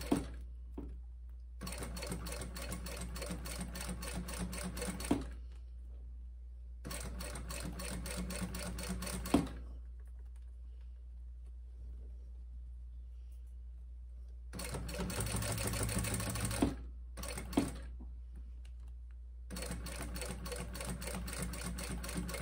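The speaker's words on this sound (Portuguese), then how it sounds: "Nós vamos vindo costurando bem devagar." A sewing machine stitches a bag with a crystal transfer in slow bursts of several seconds each, separated by pauses, its rapid mechanical clatter close and clear over a low steady hum.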